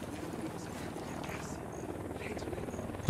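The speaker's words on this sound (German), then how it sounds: "Helikopter?" A helicopter's rotor hum in the shooter game Ghost Recon Wildlands, a steady low drone running throughout at moderate loudness, somewhat distant, with no clear speech over it.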